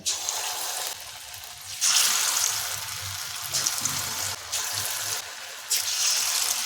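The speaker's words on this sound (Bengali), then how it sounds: "তেলটা গরম হলে আমি কুমড়ো বড়াগুলো ভেজে নিচ্ছি।" Pumpkin fritters frying in hot mustard oil in a wok, a steady broad sizzle with bursts that swell and fade as batter drops in, fairly close and continuous with no talking.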